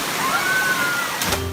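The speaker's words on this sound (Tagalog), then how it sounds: "Malakas talaga yung agos. Yung tubig parang jacuzzi siya." Strong river current in Surigao churning like a jacuzzi, a steady close rushing of water with a dense, constant hiss and a brief splashing surge near the end.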